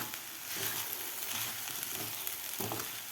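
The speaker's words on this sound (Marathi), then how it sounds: "व्यवस्थित आपल्याला परतून घ्यायचा आहे साबुदाणा." Sabudana sautéed with peanut powder and jaggery for sweet khichdi makes a soft, even sizzle with faint stirring pulses, fairly quiet and steady throughout, without speech.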